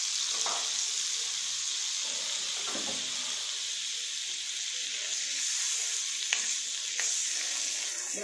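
Oil and butter sizzle steadily in a pan for masala pav, a continuous close frying hiss with a few faint clinks of stirring and no voices.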